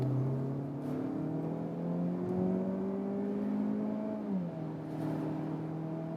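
A Mazda CX-30 SUV with the Skyactiv-X engine accelerates hard through the gears, engine tone rising steadily, dropping at a shift and climbing again, heard from inside the cabin with no talk.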